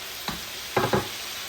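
Ginger and garlic hit hot oil in a traditional Peshawari chicken karahi and raise a steady, hissing sizzle. A few soft scraping stir strokes sound close over the constant frying.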